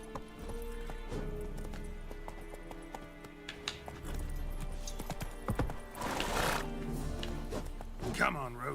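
Horse hooves clip-clop through The Witcher 3: Wild Hunt, a steady run of hoofbeats with a whinny, under game music and a voice speaking.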